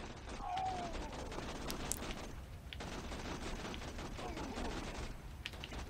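Gunfire from a weapon in Borderlands 2 on PS Vita, a dense steady stream of shots with mechanical clatter running the whole time, fairly faint and continuous with a brief dip in the middle.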